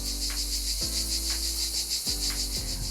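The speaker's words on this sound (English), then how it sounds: "This is Brood 19 that comes out every 13 years. It sounds pretty, but they're not pretty." Brood XIX periodical cicadas, a 13-year brood, fill the air with a dense, loud, pulsing chorus, a steady high buzz swelling and ebbing in waves, with a low hum underneath.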